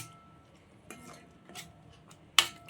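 A spoon scrapes and taps a pan as mango barfi mixture with ghee is stirred, giving a few faint scraping strokes and one sharper metallic clink near the end.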